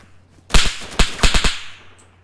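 A melee stab lands in a video game, a quick flurry of sharp, loud whooshing slashes and impacts bunched into about one second, with quiet around it.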